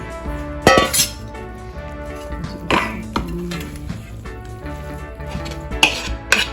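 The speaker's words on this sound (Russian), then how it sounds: "Все, теперь мы это перемешиваем опять." A spoon stirs a filling in a bowl with scattered clinks and knocks of dishes and glass, irregular close taps at a low level.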